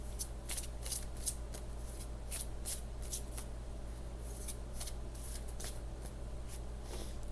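Tarot cards being shuffled by hand, a steady run of soft riffling flicks and taps close by over a low constant hum, with no talking.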